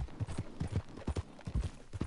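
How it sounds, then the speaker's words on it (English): Horse hooves clip-clopping at a steady walking rhythm in Red Dead Redemption 2, quiet and fairly close, with regular paired beats over a faint background. "It's a horsey."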